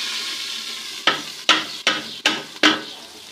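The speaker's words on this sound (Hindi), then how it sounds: "तड़का हमारा तैयार हो गया है तो हम तड़का लगाते हैं" Tadka of tempering spices poured into hot oil for dal, giving about five sharp sizzling bursts in quick succession, each hiss flaring loudly and then fading, close by with no talking.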